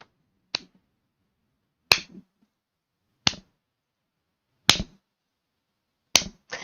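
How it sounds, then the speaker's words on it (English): Five sharp, single hand claps at slow, even intervals, each crisp and isolated against silence. "I can't tell if you can hear the claps or not, but I was slow clapping"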